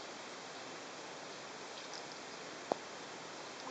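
Garden hose water pouring steadily onto tomato plants, a continuous close hiss of spray with one brief sharp click partway through.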